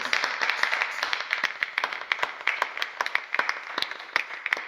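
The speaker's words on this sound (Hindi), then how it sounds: "क्यों ना हमारे उत्तम तालियों के द्वारा हमारा परमेश्वर का स्वागत हमारे बीच में करें।" A church congregation at a Sunday service claps in a brisk, uneven rhythm that stays fairly steady throughout, with faint voices mixed in.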